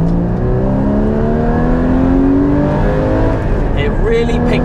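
A Porsche Cayman GT4 pulling away from a standstill, its engine note climbing steadily in pitch as it revs hard through the gear, loud and close inside the cabin, with a brief change near the end.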